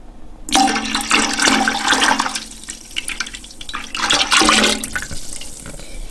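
Milk pours loudly into a pot in two gushing bursts with a short lull between, close by and with no talking.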